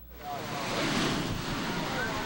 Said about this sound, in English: The deadly waves continue to pummel the Balboa shoreline.